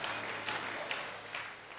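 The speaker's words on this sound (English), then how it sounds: "clap your hands and say, I receive my portion" A church congregation claps together, a soft but sustained patter of many hands at a distance with a few sharper peaks, continuing steadily without speech.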